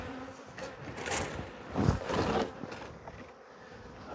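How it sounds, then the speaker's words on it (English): Honey bees buzzing around an opened hive, a fluctuating insect drone with several louder close swells as bees fly out, fading back to a softer hum. "the bees are just going to be coming out quickly"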